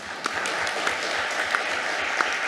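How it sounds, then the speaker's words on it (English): Applause from a conference audience at the closing session of a Euro-Mediterranean science diplomacy conference, steady dense clapping that carries evenly throughout with a few sharper individual claps standing out. "I'd also like to propose an applause for all the moderators and the rapporteurs"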